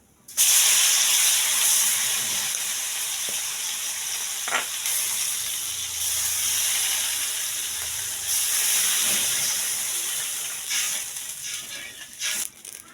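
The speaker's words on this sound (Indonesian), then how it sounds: "Nah ini bumbu udah mendidih." Loud steady sizzling and bubbling of spice paste for pesmol boiling in a hot pan, close up, with occasional clinks of a utensil.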